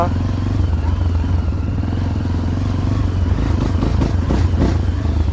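A Tekken 250 R-line motorcycle engine (2024) runs steadily at close range, a low, continuous drone with a rough pulsing beat and faint clattering rising near the end.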